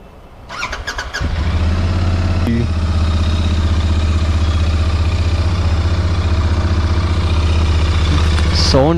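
A new Royal Enfield Interceptor motorcycle with only 207 km on it starts up and settles into a loud, steady, throbbing idle close by, with a brief squeal near the start and a revving blip at the end.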